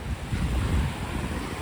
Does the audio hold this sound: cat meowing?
no